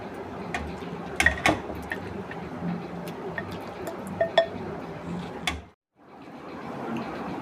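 Metal utensils clink and scrape against a karahi while serving chicken karahi, with several sharp, close clinks over a steady kitchen background that briefly drops to silence near the end.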